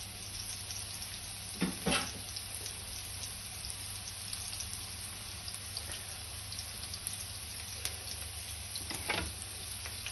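Chopped medium onion frying in olive oil in a pan, a steady soft sizzle and crackle throughout, with a couple of brief louder spatters or stirs near the start and end, no talking.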